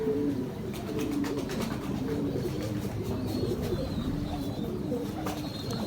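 Ferozpuri Saleti pigeons coo in low, rolling phrases that repeat steadily, with faint higher chirps and a soft background hiss running throughout.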